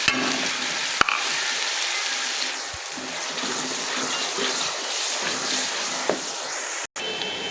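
Whole black cardamom, green cardamom and cinnamon pieces sizzle steadily in hot oil, a continuous hissing crackle with a couple of brief clinks from a pan or spoon.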